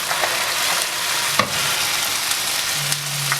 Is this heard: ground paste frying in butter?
yes